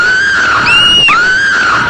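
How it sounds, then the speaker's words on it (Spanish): A shrill, horrible scream rings out in a short, loud burst of rising and falling wails, heard alone with no talk. "¿pero qué han sido esos gritos tan horrorosos que han resonado por todo el cielo?"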